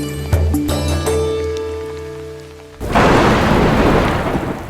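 Tonal, music-like sounds give way abruptly to a loud, steady roar of a rain shower on farm soil, with rumbling thunder mixed into the dense downpour.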